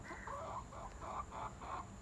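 Chickens cluck in a short run of about six soft, rounded calls, close by and fairly faint over a low background rumble.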